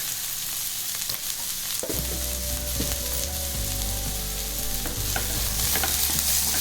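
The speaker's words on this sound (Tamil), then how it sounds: "இப்போ வெங்காயமும் பச்சை பட்டாணியும் கொஞ்சம் வதங்கட்டும், லேசாக வதங்கட்டும்" Onions and green peas sauté in a hot pan for potato bonda filling, a steady close sizzle with spoon stirring and scraping against the pan, no talking.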